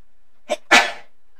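A single sharp human sneeze, a short intake followed by a loud, close burst that trails off quickly.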